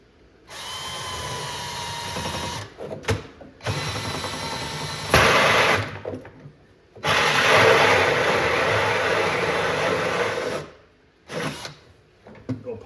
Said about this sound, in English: I'm going to drill a hole right over in this area here